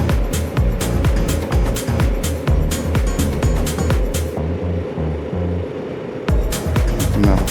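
Retro cafe racer motorbike engine heard while riding at speed, a loud steady drone with rhythmic low pulsing and wind buffeting, continuous throughout with no talk.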